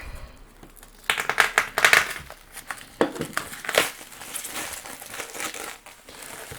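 Crinkling packaging from an unboxed sheet metal fabrication order gives loud, close rustles and crackles in uneven bursts, busiest early on and then softer handling, with no speech.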